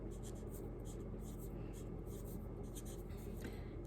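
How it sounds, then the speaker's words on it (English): A pen writes on a handmade greeting card, a soft continuous scratching of the tip over paper that runs steadily throughout, close but quiet, with no voices. "I'm gonna start by writing"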